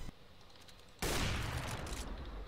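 Gunfire in Counter-Strike: Global Offensive bursts in as a loud, dense volley after a quiet second, sustaining a heavy rattling blast for over a second before easing off slightly.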